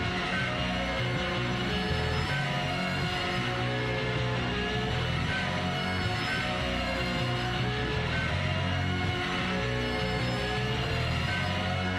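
A dense, loud wall of distorted, screeching guitar noise from a track holds steady for twelve seconds, with sustained tones layered over a constant roar and no pauses.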